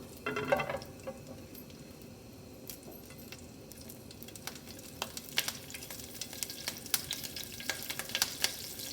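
Hot oil sizzles and crackles in a pan as hing and vegetables for a Gujarati-style Chinese okra and moong dal subji are added, with a burst of loud frying at first, then steady close sizzling and sharp pops, no talking.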